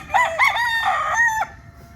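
A gamecock breeder rooster of the Blueface fighting-cock type lets out one loud, close crow lasting about a second and a half, with no other sound around it.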